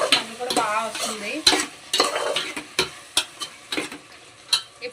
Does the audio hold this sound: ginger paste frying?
yes